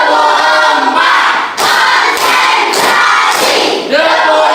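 A group of students in a classroom perform a call-and-response clap routine, loudly chanting together in unison with bursts of clapping between the lines.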